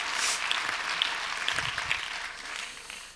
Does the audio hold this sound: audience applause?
yes